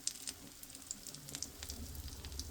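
Beaten egg cooking as an omelette in oil in a flat pan, giving a quiet, steady sizzle with small crackling pops, close but faint, with no one talking.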